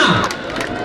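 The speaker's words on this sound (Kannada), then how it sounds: "ಅವರ ಕೈ ಚಪ್ಪಾಳೆ ನೋಟ ನೋಡೋಣ." A crowd at the Chenanda Cup hockey festival cheers and shouts together in a loud, mixed roar, with a few higher voices rising above it and faint clapping underneath.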